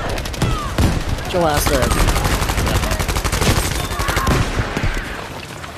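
Rapid automatic gunfire and shots crackle loudly and almost continuously in a Battlefield V match, close bursts overlapping, while a player talks over the shooting.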